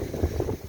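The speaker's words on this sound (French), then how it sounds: "il y a beaucoup de vent là" Strong wind buffets the microphone outdoors, a dense low rumble that fills the short moment without any voice.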